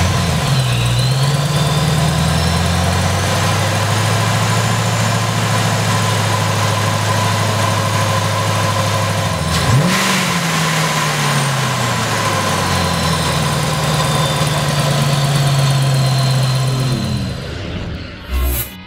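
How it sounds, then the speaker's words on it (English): A Ford Mustang fitted with a ProCharger supercharger idles loudly at close range, rising into a couple of revs with a rising blower whine before settling back to idle and cutting off at the end. "let's fire it up and listen to the awesome sound of the blower."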